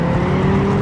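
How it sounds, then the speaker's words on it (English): A car engine in the racing game Gran Turismo 6 gives a loud, steady, muted digital buzz, holding one even droning pitch without rising revs. "There's very little bark or bite to the muted engine notes"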